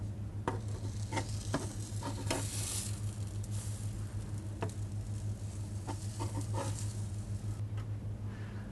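Carrot and sultana mini pancakes frying in a pan, a steady close sizzle under scattered clicks and light scraping taps, continuous throughout with no voice.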